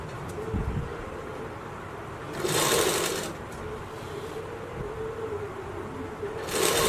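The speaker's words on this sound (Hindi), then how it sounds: "मैं इलास्टिक में सिलाई नहीं लगा रहा हूँ, बिल्कुल किनारे किनारे सिलाई लगा रहा हूँ" A sewing machine stitches along the edge of elastic for a blouse, running in two loud, steady bursts separated by quieter stretches of low hum.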